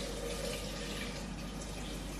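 Tap water runs steadily from a kitchen faucet over mangoes being washed, a continuous close splashing hiss with no voices.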